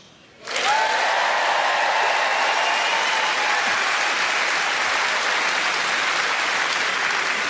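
A stand-up comedy audience at a Michael McIntyre show breaks into loud applause after a half-second of quiet. It swells quickly and holds steady and dense to the end, with no talk.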